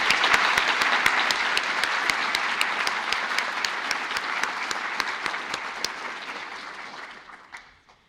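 A graduation ceremony audience applauds the performers with steady, dense clapping and a few sharper individual claps standing out, holding level before tapering off and fading out at the end.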